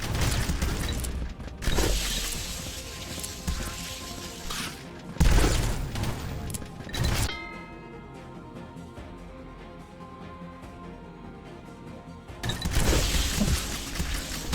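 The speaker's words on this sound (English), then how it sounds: "the elemental rifle just sounds like a submachine gun or something" Elemental rifle in Vampire Hunters firing in rapid submachine-gun-like bursts, loud crackling volleys separated by quieter stretches of game noise, with no talk.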